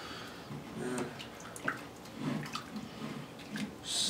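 Warm water mixed with Dawn dish soap sloshes and swishes around in a small container, soft irregular splashes and drips close by with no one talking.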